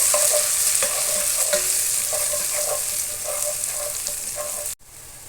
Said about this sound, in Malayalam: എന്നിട്ട് ഇങ്ങനെ ഇളക്കി കൊടുക്കണം.